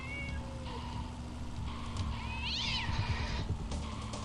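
A cat gives one clear, drawn-out meow at close range, heard over a quiet background hum and faint game sounds.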